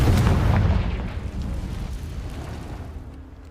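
Blasting-curse explosion in Hogwarts Legacy: one loud, deep boom at the start that rolls into a long rumbling decay and fades over a few seconds.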